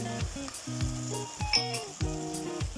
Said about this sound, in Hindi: अब इसमें हम डालेंगे टमाटो प्यूरी